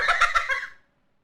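A vampire ground finch of the Galapagos calls in a short burst of four or five raspy, squawking pulses that fade out quickly, heard clearly with nothing else behind.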